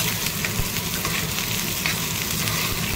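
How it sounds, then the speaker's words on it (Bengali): Onion, garlic, green chillies and dried chillies fry in hot oil with a loud, continuous sizzle and crackle, close by, with occasional stirring scrapes and no talking. "এবার আমিষ মশলা বানিয়ে তেলের মধ্যে পেঁয়াজ রসুন কাঁচা লঙ্কা শুকনো লঙ্কা সব দিয়ে দিয়েছি"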